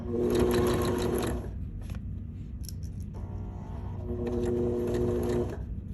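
A home sewing machine stitching a flat felled seam runs in two bursts of rapid whirring, a short pause between them with small clicks as the presser foot is lifted and lowered, all close and loud.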